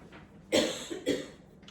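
Two close, harsh coughs in quick succession, with a brief breath between them in an otherwise quiet room.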